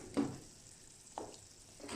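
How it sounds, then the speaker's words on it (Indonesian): Crushed garlic cloves dropped into a pot of boiling water while cooking misoa, giving three brief, soft splashing bursts spaced apart over a quiet bubbling background. "Nah ini airnya sudah mendidih. Kita akan masukkan bawang putih yang sudah kita geprek ini ya."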